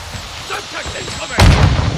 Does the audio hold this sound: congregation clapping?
no